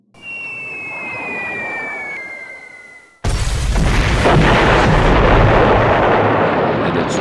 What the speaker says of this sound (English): The 301st salvo their bombs.